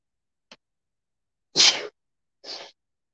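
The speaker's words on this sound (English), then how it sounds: "I usually sneeze 3 times, but just once that time" One close sneeze: a quick sharp inhale, then a loud burst followed by a softer trailing exhale, with silence around it.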